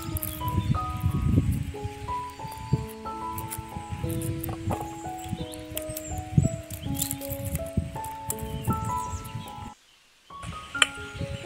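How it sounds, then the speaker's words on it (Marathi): Pigeon pea pods being shelled by hand outdoors, seeds pulled out with dry crackling, rustling and light pattering taps, faint background tones, and a brief silence near the end. "आता मी अशा पद्धतीने सर्व दाणे काढून घेते."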